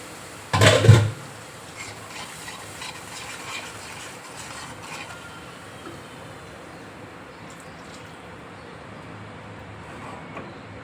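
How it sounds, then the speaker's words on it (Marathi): Water poured into oil-roasted masala in a hot pan while cooking a traditional Marathwada modak bhaji: a short, loud splash and sizzle near the start, then a quiet, steady hiss. No one speaks. "आपण त्यात घालून टाकू हे पाणी"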